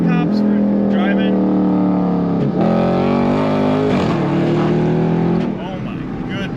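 A Dodge Charger Scat Pack 392 roars under hard acceleration, its loud, close engine note climbing and surging through several pulls while excited voices talk over it.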